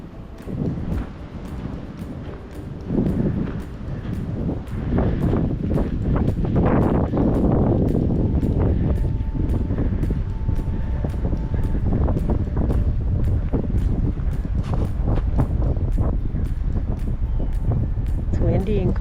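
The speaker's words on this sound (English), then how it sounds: "It's windy and cold." Cold wind blows hard across an outdoor microphone in Nebraska crane country near North Platte and Kearney, a constant loud rushing buffet that swells and stays heavy, with faint voices partly buried beneath it.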